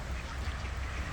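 Mallard ducks, mostly hens with a few drakes, quack softly at a flooded park in Kalamazoo in the early morning. The sound is a brief, faint burst over steady outdoor background noise.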